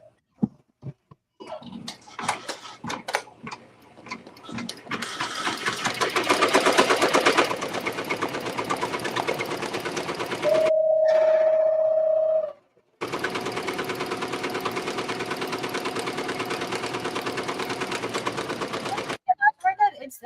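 A Ricoma Marquee 2001 embroidery machine starts stitching with a fast, steady, rhythmic mechanical chatter. It pauses with a brief electronic tone, then runs again before stopping, close and loud.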